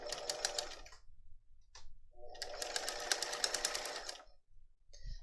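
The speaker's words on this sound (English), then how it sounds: "So now I'm going to take it to the sewing machine and sew in this ditch." A sewing machine stitching in the ditch along the binding of a messenger bag flap runs in two bursts of rapid stitching, a short pause between them and a brief tap in the gap, fairly close.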